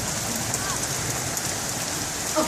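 Steady rain pours down during an outdoor rainstorm near a metal fence and gate, a dense close hiss of drops hitting surfaces throughout, with a brief louder patter near the end.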